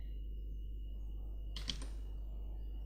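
A computer keyboard is typed on to search in a game-engine material editor. A brief cluster of quick keystrokes sounds midway, close and fairly soft, over a constant low hum and otherwise quiet room.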